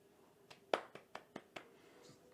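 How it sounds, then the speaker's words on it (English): A handful of sharp, faint hand claps, about six in quick succession over a second, close by and sparse, like a small group or single person applauding during a live podcast. "give her a big shout out and, you know, give her applause"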